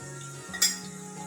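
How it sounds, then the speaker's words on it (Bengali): Onions and ginger-garlic paste stirred in a pan for restaurant-style paneer butter masala, with a soft steady scrape and one brief metallic clink of the spoon against the pan, heard alone. "এবার এটা আমরা ভালো করে নাড়িয়ে নেব।"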